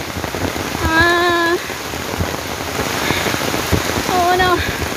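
Steady rain falls across a nature park trail in Singapore, a broad, even wash of drops that runs the whole time, with brief voices calling out twice over the downpour.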